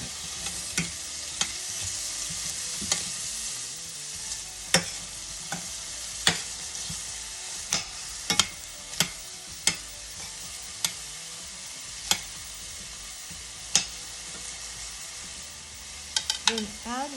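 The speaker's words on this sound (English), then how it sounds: "Let's start sauteing our onions until it's translucent." Onions fry in cooking oil in a pan for menudo, a steady close sizzle punctuated by regular spatula clicks and scrapes, with a quick cluster of stirring near the end.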